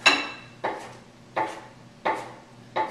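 Knife chopping parsley on a board in a home kitchen, five crisp evenly spaced strikes close by, with no talking.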